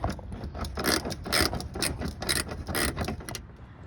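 A ratchet clicks in quick, uneven bursts while backing out a 10mm fender bolt on a 2014 Honda Accord EX-L V6, close and fairly loud with short pauses between strokes.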